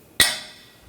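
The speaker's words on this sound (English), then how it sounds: "take a punch. You just want to tap the axle in." A punch taps the CV axle of a 2014-2020 Nissan Rogue inward to free it from the hub: a single sharp metallic clink that rings briefly and fades, heard alone.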